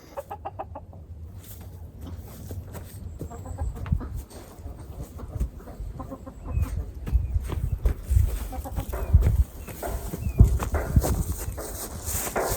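Chickens cluck and murmur close by, with scattered soft calls and shuffling noises growing busier toward the end.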